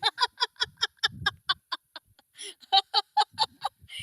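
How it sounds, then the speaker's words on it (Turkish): Rapid series of loud, nasal honks from a goose, repeated in quick bursts with a short pause between runs. "Kaz."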